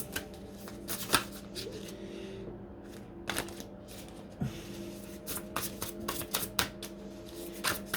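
A deck of playing cards is shuffled and riffled by hand in repeated crisp, papery bursts, close up and fairly quiet, with brief pauses between flurries and no clear talking.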